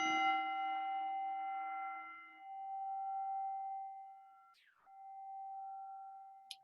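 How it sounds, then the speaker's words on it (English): A meditation bell rings out with a clear, sustained metallic tone that slowly fades, then sounds again and rings on softly in an otherwise silent room. "here's the bell"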